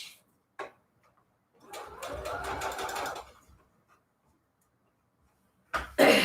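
Sewing machine stitching short fabric strips into ruffle trim for junk journals: a brief burst, then a steady whirring run of about a second and a half, and another short burst at the end. The machine is close and alone, with no talk.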